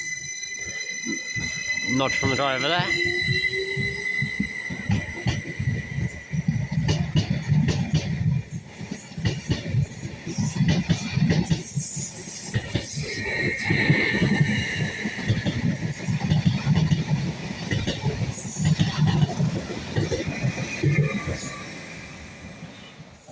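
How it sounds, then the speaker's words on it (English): A long freight train carrying MSC containers rumbles past nearby at Stowmarket with rhythmic clacking of wheels over rail joints, a horn at the start, and someone speaking briefly over it. "The most amount of MSC containers I've ever seen on a freight train."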